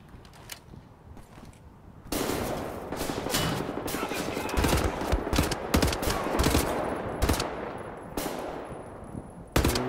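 Sustained automatic gunfire from a weapon in Wolfenstein: The New Order hammers out in a long rapid burst after a few scattered opening shots, loud and close, ending with a final sharp report.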